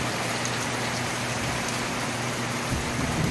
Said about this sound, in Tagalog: lakas ng ulan lakas talaga ng ulan dito